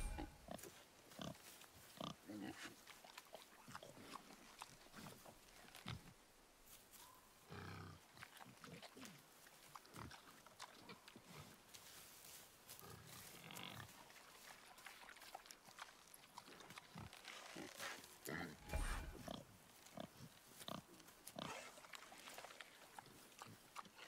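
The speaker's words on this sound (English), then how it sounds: "The wild boar's hide is thick." A wild boar grunting and snorting in the forest of God of War on PS4 Pro, with irregular rough grunts, scuffs and rustles over a steady ambient bed across a long stretch.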